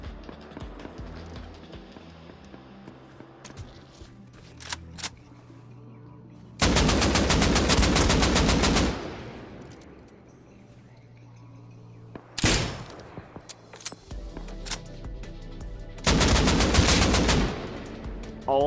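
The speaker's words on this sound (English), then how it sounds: "an MP5 guy just started shooting at me" MP5 submachine gun fire in the console version of the survival game Rust: long loud bursts of rapid automatic shots, two sustained strings and shorter volleys, close by, with footsteps and clatter between them and a voice now and then.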